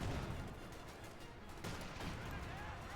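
88mm high velocity gun from the Company of Heroes 2 real-time strategy game firing amid dense battlefield noise, with a sharper report near the middle over continuous rumbling gunfire and explosions.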